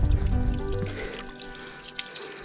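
Water flows from a snowmelt mountain spring on a trek in Uttarakhand, a close, rushing gurgle that slowly fades to a softer trickle with a brief splash near the end.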